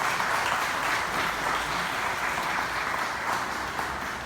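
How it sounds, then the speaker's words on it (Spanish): Sustained audience applause at a book presentation event, a steady wash of many hands clapping at moderate volume throughout, with no voices over it. "Él es el maestro Vicente Espino Jara, a quien pido le brindemos un fuerte aplauso"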